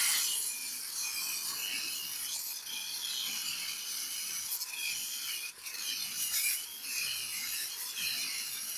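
A plywood sheet for a home climbing wall is cut to size, giving a steady, loud, continuous rasping cut that dips briefly once, with no talk.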